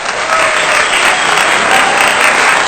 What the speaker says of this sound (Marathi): टाळ्यांचा गजर सभागृहामध्ये अनेकदा होत होता, वारंवार होत होता।